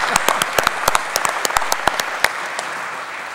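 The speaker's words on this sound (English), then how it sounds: "let's give him a round of applause that he might hear all the way over" Applause from a conference plenary audience, a smaller crowd's scattered claps with a few sharp, close individual hand claps standing out, steady for several seconds.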